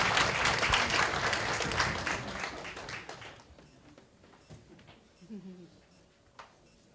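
Applause from a church audience welcoming a missionary to give testimony, dense and loud at first, then thinning out into scattered claps and fading within a few seconds.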